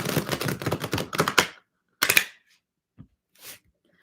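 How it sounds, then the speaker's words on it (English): A deck of tarot cards is shuffled up close in a fast riffle of rapid papery flutters, followed by a second short burst and a few soft taps as the cards settle. "Last shuffle."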